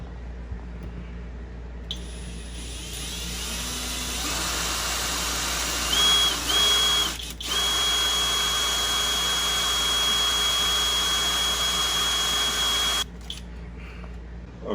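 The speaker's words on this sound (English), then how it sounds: "I finished drilling a small hole in the inner fender to mount the relay." A power drill whines steadily at high pitch for about ten seconds, drilling a small hole in the inner fender of a 1973 Mustang Mach 1, briefly stopping and restarting, over a low background hum.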